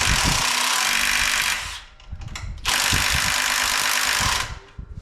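A power tool unscrews a part on a vintage Can-Am motocross bike in two loud, sustained whirring bursts, each about a second and a half long, separated by a brief rattling pause.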